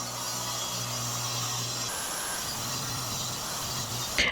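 A miter saw cuts through plywood in a workshop, giving a steady whining, hissing cut that drops away near the end, with a brief clatter as it finishes.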